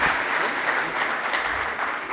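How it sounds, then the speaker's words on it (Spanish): Audience applause fills a conference hall at a banking technology event in Santiago, a steady dense clapping from a crowd that holds evenly for about two seconds with no voices over it. "Un aplauso para usted"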